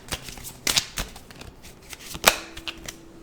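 Mystics Midnight Tarot card deck being shuffled by hand, a few quick riffling bursts and soft card taps at close range, quiet with no talking.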